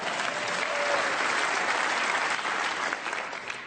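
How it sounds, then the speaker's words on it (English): Audience applause at a TEDx talk in Maastricht, a dense, steady burst of clapping from a full hall that holds strong for a few seconds before beginning to thin out. "How about some applause?"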